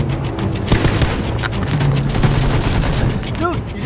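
Rapid automatic gunfire from an M16 rifle in the battle royale video game PUBG, a continuous dense burst of shots filling the scene at steady loudness, with brief voices talking over it.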